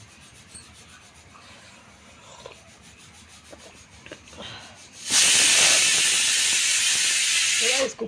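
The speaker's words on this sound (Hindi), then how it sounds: "इस कुकर में आ गई है सीटी" A pressure cooker whistles in a home kitchen, a loud, sudden hissing blast that starts partway through and holds steady for about three seconds after quieter rubbing and clattering kitchen sounds.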